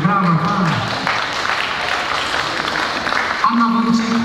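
An outdoor concert audience in a Toronto park applauds with a continuous spatter of clapping, while a voice speaks over it at the start and again near the end.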